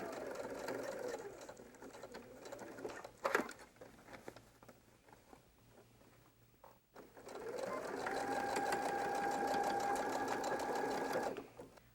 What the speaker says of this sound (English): we'll be sewing this edge using 3/8 inch seam allowance